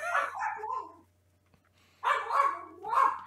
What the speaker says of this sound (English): I have never heard a dog on your end.